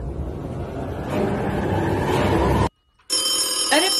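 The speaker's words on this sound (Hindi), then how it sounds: "अरे फोन बजा, ये नहीं बज रहा, ये भी बज रहा" A telephone ringing with a bright repeated electronic trill that starts after a brief silence, heard over a noisy rumbling background.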